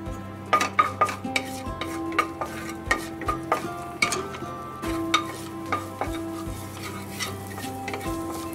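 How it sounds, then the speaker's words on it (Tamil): Fennel seeds spluttering in hot butter in a pan, a steady sizzle broken by repeated sharp crackles and stirring clicks of a spoon against metal, close and fairly loud with no talking. "சோம்பு வந்து பொரியுது"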